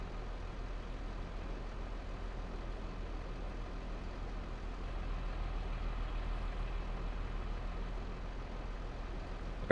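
Steady, even drone of a trailer filling with crop from a loading machine in Farming Simulator 22, a continuous mechanical rumble with no breaks and no talk.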